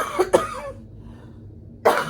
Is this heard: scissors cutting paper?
no